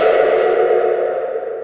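A fast chord on a harp run through effects pedals, including a washy vibrato pedal, rings out as a loud, sustained, wavering wash with heavy echo and chorus, slowly fading, meant as a ghostly Pokemon cry.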